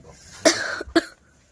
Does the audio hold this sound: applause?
no